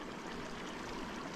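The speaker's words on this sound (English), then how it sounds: "there's a lot of water coming down the hill" Rainwater runs down a hill under gray skies in a brief, quiet, steady wash of trickling, flowing water with no voices.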